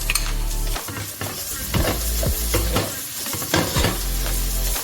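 Carrots hitting a hot pan of oil with basil and oregano, sizzling steadily while a utensil stirs and scrapes in repeated strokes, with occasional clinks of metal on the pan, close and fairly loud.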